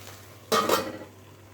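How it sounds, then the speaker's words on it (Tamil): A spoon clatters against a pan as chopped chapati is stirred into egg masala, one loud scraping burst lasting about half a second before it fades to quiet. "நல்லா இப்போ மிக்ஸ் பண்ணி விட்டுட்டு ஒரு 5 மினிட்ஸ் மூடி போட்டு மூடி வைங்க"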